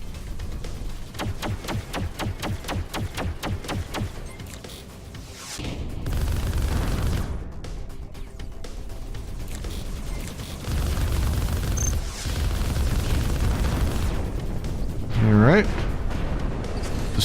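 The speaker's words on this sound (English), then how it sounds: "Destruction! Explosions! I'm liking it." Arc Savior battle noise: heavy rumbling blasts and destruction swell in waves under a steady roar, with a rapid rattling burst early on and a sharp boom late; someone talks briefly over it.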